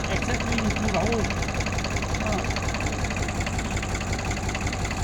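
A tractor engine idles with a steady low chugging rumble that continues throughout, while a person talks over it.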